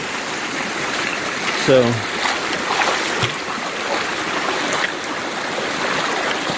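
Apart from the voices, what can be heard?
flowing creek water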